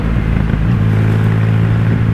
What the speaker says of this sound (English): it has this beautiful grumble on the exhaust. It's an aftermarket pipe, but love that sound.